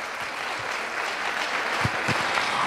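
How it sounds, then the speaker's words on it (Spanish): An audience at a school celebration applauds with steady, moderately distant clapping that builds slightly over a few seconds. "Entonces los aplaudimos."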